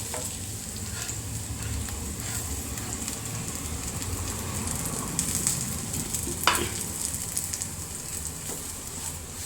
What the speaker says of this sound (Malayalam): നമ്മളുടെ റവ ഇട്ട് കൊടുക്കാം കേട്ടോ.